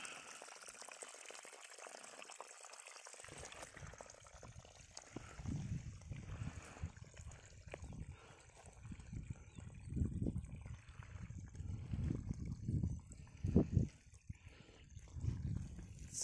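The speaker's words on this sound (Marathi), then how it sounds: "मस्त पाण्याची धार" Water from a newly powered farm pump pours out in a strong stream, a low gushing rumble that swells and surges unevenly after a quieter hissing opening, with no talk over it.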